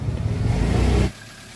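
A car engine idles and revs during warm-up after a radiator repair for overheating. It gives a steady, fairly loud mid-range drone for about a second, then cuts abruptly to a much quieter low hum. No one talks.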